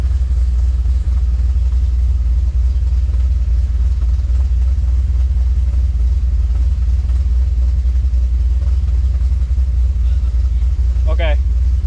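An LS-swapped Nissan 350Z idles nearby with a steady, heavy low rumble that holds even throughout. A brief faint chirp rises near the end.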